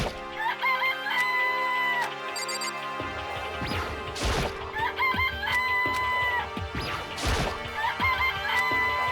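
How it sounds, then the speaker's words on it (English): Chickens and a rooster at a coop in Danganronpa: Trigger Happy Havoc, with repeated clucking and crowing calls broken by sharp crashing hits. "There's chickens! This place even have chickens."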